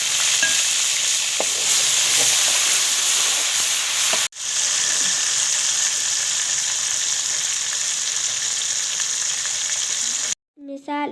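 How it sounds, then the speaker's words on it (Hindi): Onions fry in the hot oil left over from seekh kebabs, a loud, steady close sizzle with a brief break in the middle, then a short burst of voice at the very end. "अब हम इसी ऑयल में प्याज डालेंगे"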